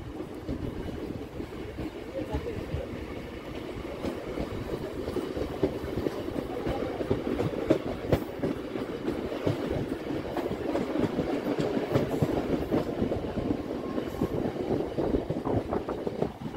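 A Howrah–Haldia local train runs on rails after leaving a station, a steady rumbling roll with rhythmic clickety-clack from the wheels that grows louder and denser as it picks up speed, heard from inside the carriage.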